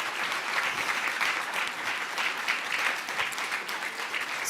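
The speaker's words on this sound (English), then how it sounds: "Let's give them another round of applause." An audience gives a sustained round of applause at a Kid Governor inauguration ceremony, honoring the newly introduced cabinet; steady dense clapping fills the room at moderate loudness with no speech over it.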